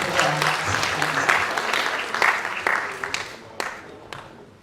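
Applause from a seminar audience at an opening ceremony, steady and fairly close for several seconds before thinning out toward the end, with a few louder individual claps standing out and a voice briefly audible underneath.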